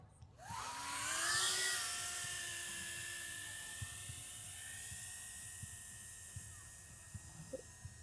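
A Pavo30 FPV drone spools up and flies, a steady high-pitched whine of small propellers rising sharply in the first seconds and then holding a constant buzzing tone, fairly close with no voices.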